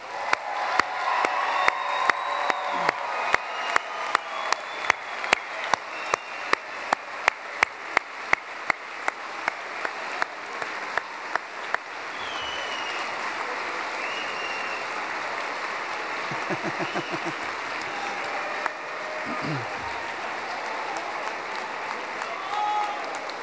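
An audience at a spring graduation convocation for arts undergraduates applauds the standing graduates. Sharp regular claps come first, then sustained dense applause from a large crowd, steady and moderately loud.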